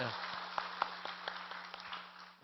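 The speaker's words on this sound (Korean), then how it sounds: "박수로 환영하겠습니다" Faint, sparse hand claps sound at a Sunday church service, a light scattered patter over a low steady hum in a quiet room.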